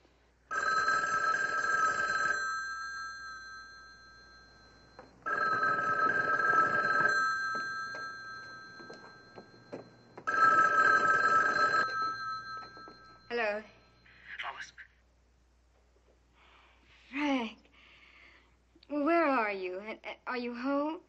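An old-style telephone rings on the line after a caller asks an operator for a college extension: three evenly spaced, loud ring bursts, followed by voices talking.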